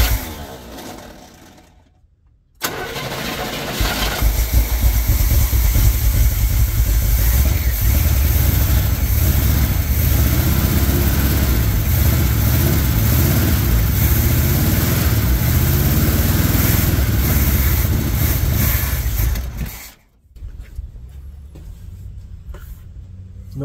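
An old Chevrolet squarebody truck engine, parked for 19 years and running on fuel in the fuel bowl, starts up and runs steadily with a rough, throbbing rumble for a long stretch, then cuts off abruptly.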